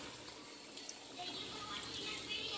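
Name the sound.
water poured over pink salmon for steaming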